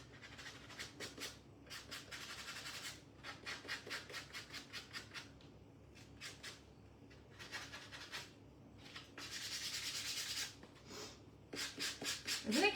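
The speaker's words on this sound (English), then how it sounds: "we have just the bases, which I'll sand a little bit as well" Small wooden bases are sanded by hand in quick, rhythmic back-and-forth strokes. The dry, close scratching comes in bursts with brief pauses between sets.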